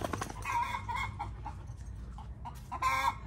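A hen on a farm clucking and scolding in agitated bursts, close and fairly loud, with short pauses between the calls and no talking over them.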